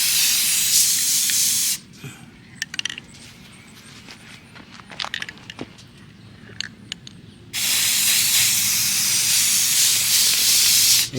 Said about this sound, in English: So spray paint it, one coat.